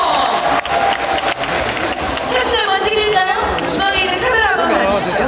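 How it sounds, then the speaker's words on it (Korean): Festival crowd applauding a performance at the Cheongdo Bansi Festival, steady dense clapping throughout with chatter and a host speaking over it. "박수 한번 부탁드리겠습니다."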